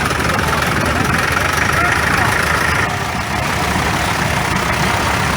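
A 1954 Fordson Major Diesel tractor engine chugs steadily at a low idle, loud and close, as it rolls past in an old engine show parade.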